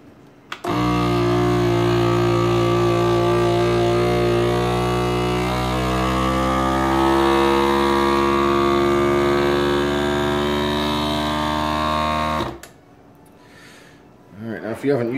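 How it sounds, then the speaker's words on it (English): FoodSaver vacuum sealer with a jar attachment pumping air out of sealed jars, a steady loud motor hum lasting about twelve seconds before cutting off abruptly, followed by quieter handling noise. "we got the food saver with the trusty jar attachment."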